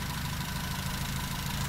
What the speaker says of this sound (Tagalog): kanina pa umaandar yung makina.